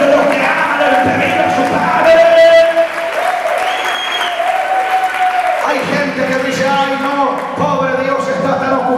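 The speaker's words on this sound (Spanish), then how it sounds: "Aplauda fuerte los que aman el pedir." A church congregation at a Sunday sermon claps loudly and steadily throughout, with voices and sustained sung or shouted tones rising over the dense applause.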